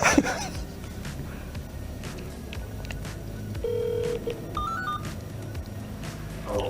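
Telephone dial tones and DTMF beeps sound as a call is placed, with a brief ring, over a steady low background hum; no one talks.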